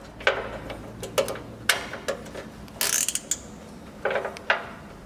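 A cable tie is ratcheted tight beside a Nissan NP300 Navara chassis during side step fitting, with several short bursts of close, crisp zipping clicks separated by pauses.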